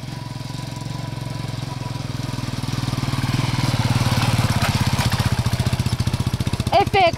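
A motorbike engine on a dusty road in Goa, India, idling and then revving louder as the bike pulls away, a rapid pulsing throb close by with voices in the background.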